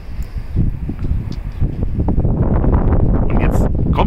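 Strong outdoor wind buffets the microphone in low, rumbling gusts that build and stay loud throughout, with faint rustling over it.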